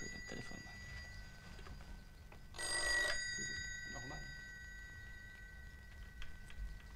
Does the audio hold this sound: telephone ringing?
yes